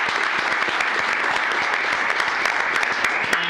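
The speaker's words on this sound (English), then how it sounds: "Let's give her a round of applause." Applause at a county commissioners court session honoring a retiring 25-year county employee, a room of people clapping steadily and fairly loudly for a few seconds.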